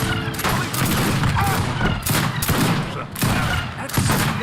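Rifle volley fire in the strategy game Age of Empires 3: Wars of Liberty, dense overlapping gunshots crackling almost nonstop, with several louder bursts standing out from the battle noise.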